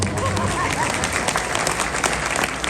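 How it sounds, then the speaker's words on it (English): Brief burst of audience applause at a lecture hall interview, dense clapping throughout with crowd murmur underneath. "Round of applause."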